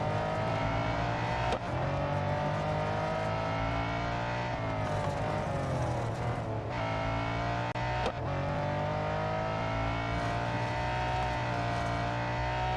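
A racing car engine in the mobile game Real Racing 3 drones continuously at high revs, rising and dipping as gears shift, loud and steady with no voice over it.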